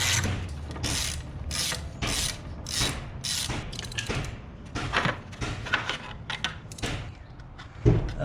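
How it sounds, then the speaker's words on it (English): A ratchet clicks in repeated rapid bursts as 10mm bolts come off the fuel rail cover of a BMW Z3 with a 2.8L M50 engine; close, steady and mechanical, with no voices. "Next step is taking the fuel rail cover off. 10mm bolts."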